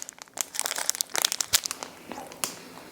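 Plastic wrapper of a guava and pear fruit roll being peeled open, sharp close crinkles and small tearing crackles in uneven bursts over a few seconds.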